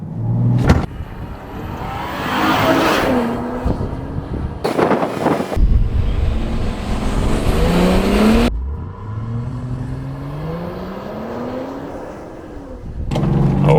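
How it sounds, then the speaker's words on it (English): A Land Rover Defender 130 P400 with a 3-liter turbocharged and supercharged six-cylinder launches hard, its engine note rising through gears with loud road and wind noise inside the cabin. "All right, Brian, we're in the all-new Defender with the P400 3-liter, 6-cylinder, 395 ponies."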